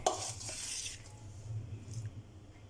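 Chicken pieces being stirred into marinade in a bowl, faint wet squelching and a few light scrapes and clinks of spoon against the bowl, quiet and close with no talking.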